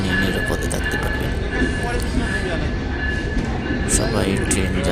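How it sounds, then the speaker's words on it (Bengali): A train rolls past in a steady, dense rumble with a rattling roar of wheels and carriages, sustained and fairly close throughout. "সবাই ট্রেন যাচ্ছে"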